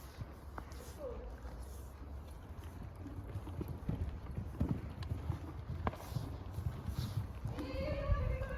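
Event horse hooves thudding on an arena surface during gridwork and arena cross-country schooling, a steady, fairly faint rhythmic clip-clop heard at a distance with outdoor ambience and a brief voice near the end.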